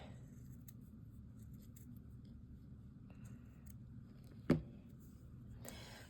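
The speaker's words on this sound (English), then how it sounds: "Let me just cut this piece here." Scissors snip through a piece of paper or card for a junk journal, quiet close-up cuts followed by a single sharper snip near the end, with no talking.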